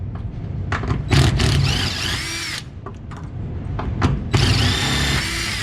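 A power tool whines in short bursts while unscrewing bolts on a trailer, close and loud, with brief pauses between runs.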